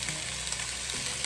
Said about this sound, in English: Just saute these for just a couple of minutes